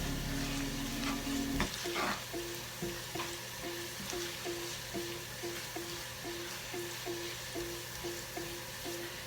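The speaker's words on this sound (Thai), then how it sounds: "อันนี้ยายใส่ไข่ลงไปเลยค่ะ เดี๋ยวรอผัดไข่ให้สุกนะคะ" Eggs frying in hot oil in a wok, a steady loud sizzle with rhythmic scraping and stirring strokes repeating close by, no talk.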